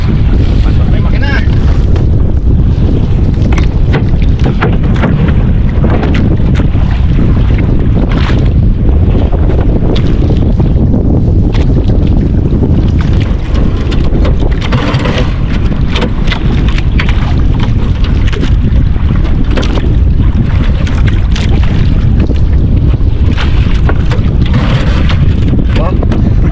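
The engine of a small motorized fishing boat out on open water drones steadily and loudly throughout, buffeted by heavy wind noise and splashing, with voices talking over it.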